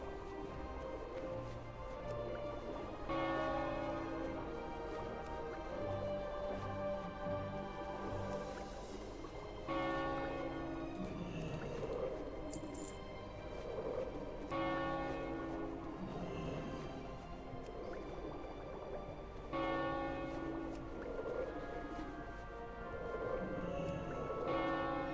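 Bells ring repeatedly in World of Warcraft Classic, Season of Discovery, in a series of rich, resonant peals that return every few seconds over a steady background, loud and alone with no talk.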